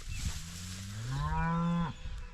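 A mother cow on a farm pasture calls for her calf with one long, loud, close moo that rises and holds before cutting off.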